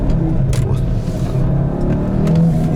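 Audi RS3 five-cylinder engine and exhaust revving continuously, loud and close from inside the car, with someone talking over the engine note.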